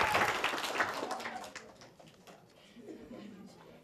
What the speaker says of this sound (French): Applaudissez pour ce groupe.